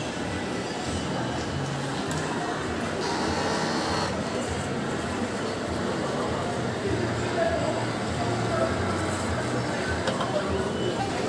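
A DTF printer runs a nozzle check after a head cleaning, giving a steady mechanical whir and rattle with a brief brighter burst of printhead motion partway through, continuous for the whole stretch.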